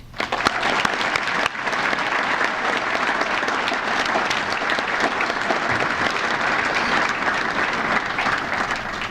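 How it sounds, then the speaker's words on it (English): Sustained, full applause from a crowd at a CHSAA Hall of Fame induction ceremony, honoring the new inductees; thick, even clapping that holds steady for the whole stretch without talk. "Now for your round of applause."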